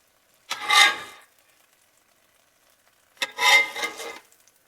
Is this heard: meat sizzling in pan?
yes